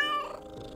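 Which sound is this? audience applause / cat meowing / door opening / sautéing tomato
cat meowing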